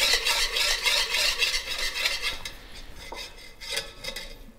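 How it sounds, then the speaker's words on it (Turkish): Butter stirred into a pot of Turkish yogurt soup with small meatballs: a spoon scrapes and clinks against the pot in a steady, continuous rhythm, close and fairly loud, with no talk. "Bununla birlikte karıştıracağım"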